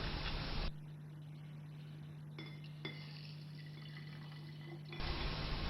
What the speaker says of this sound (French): 20 ml d'huile d'olive sont mesurés avec une éprouvette.